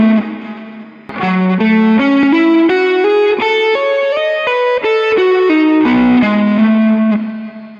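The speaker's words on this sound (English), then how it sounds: "I'll show you how to combine the sweeps with legato and slides so you can practice the technique in a more musical way" A loud distorted electric guitar runs sweep-picked arpeggios mixed with legato and slides, a fast continuous stream of notes climbing and falling with effects-laden sustain.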